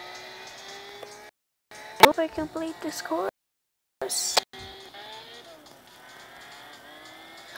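Car engine drone in a racing video game course, a steady whining tone that rises in pitch, cut by brief silences and sharp impacts, with a person talking over it.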